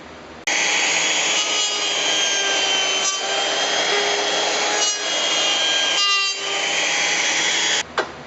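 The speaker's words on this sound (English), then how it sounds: "then do the rest with a chisel" Hand tools working a rosewood joint for a chest, a close, continuous dry rasping and scraping with short pauses and a few strokes that shift in pitch, with no voices.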